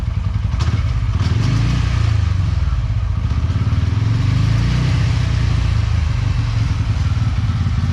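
A TVS Ronin 225 motorcycle, its chain freshly cleaned and lubed, revs up and accelerates with a loud, continuous engine drone heard close by throughout.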